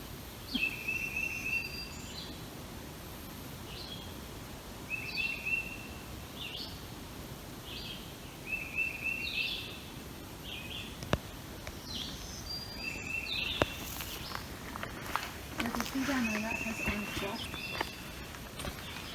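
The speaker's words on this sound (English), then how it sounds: "Bird sounds." Birds chirp in short repeated phrases outdoors on a hiking trail near Damascus, Virginia, fairly faint, with scattered rustling and footstep-like noises nearby.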